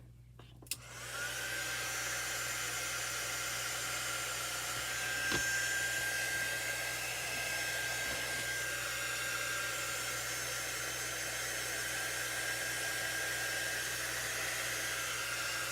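A handheld hair dryer blows steadily on a football-themed craft project, switching on after a brief moment and then roaring continuously and close at an even level.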